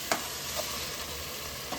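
Spices tempering in hot oil for a vegetable biryani, with mint, coriander leaves, ginger, garlic, green chilli and cumin nearby; a steady, close sizzle runs throughout, with a few brief stirring clicks and no talk.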